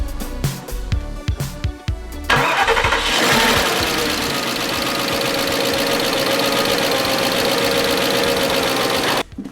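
Porsche engine cranking with a few rhythmic starter bursts, then catching at about two seconds and settling into a loud, steady running roar that continues close by until cut off near the end.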